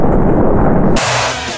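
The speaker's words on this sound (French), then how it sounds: "explosion." A loud explosion sound effect bursts in at once and roars for about a second, then cuts sharply to a thinner hiss and rumble as it fades out.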